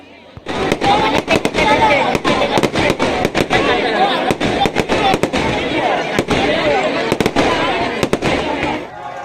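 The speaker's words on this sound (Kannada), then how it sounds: "ಸಿಡಿರಣ್ಣನ ಸಂಭ್ರಮ ಪಟಾಕಿಯ ವೈಭವ ಮುಗಿಲು ಮುಟ್ಟಿದೆ ನೋಡಿ" Firecrackers burst in sharp, rapid volleys at a night temple chariot festival, loud and close, over a continuous roar of crowd noise and crackle.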